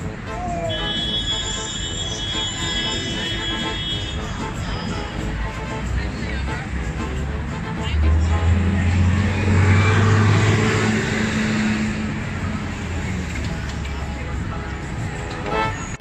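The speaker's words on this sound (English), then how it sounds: "Times Square." Street ambience in Times Square, New York: a steady city hum of traffic with passing vehicles, a louder low rumble midway, and a few faint honks, with people talking nearby.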